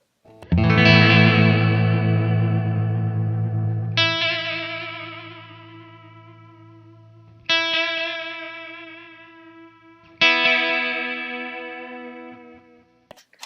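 Electric guitar through a pedal with echo repeats modulated by a chorus effect at maximum depth: four struck chords, each ringing out and decaying with wavering, shimmering repeats.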